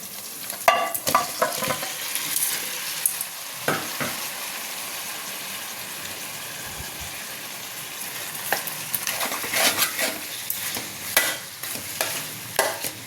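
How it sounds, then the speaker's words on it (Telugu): Fish pieces sizzle in tomato masala in a pan, with a steady frying hiss broken by repeated scraping and stirring clatters, louder in bursts near the end, with no voices. "ఇప్పుడు వచ్చేసి మనము ఫిషెస్ని ఇందులో వేయాలి"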